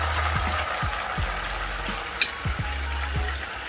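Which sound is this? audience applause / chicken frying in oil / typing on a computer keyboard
chicken frying in oil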